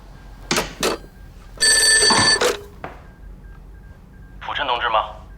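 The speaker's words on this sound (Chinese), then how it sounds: "我先接他电话，听他怎么说" An old-style office telephone rings in short, loud electric bursts among brief dial tones, and a voice begins speaking near the end.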